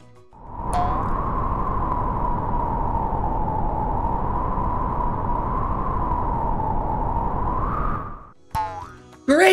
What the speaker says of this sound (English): Now we'll listen to the wind.